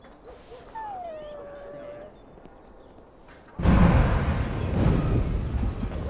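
A dog whimpers and yips in the video game Dragon Age Origins, thin high whines rising and falling early on, followed by a louder stretch of broadband game ambience.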